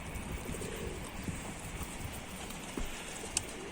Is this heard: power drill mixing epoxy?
no